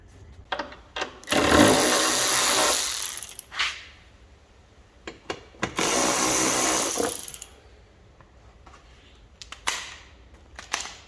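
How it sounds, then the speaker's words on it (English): A ratchet tool loosens front bumper bolts on an Alfa Romeo Giulia, with two long bursts of rapid mechanical clicking between short taps and clunks, loud and close with no talking. "just loosen those bolts off"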